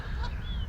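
Ducks calling on a carp-fishing lake at Lymm Anglers' Serpentine, a brief nasal honking quack with a rising tonal cry close by over a low outdoor rumble.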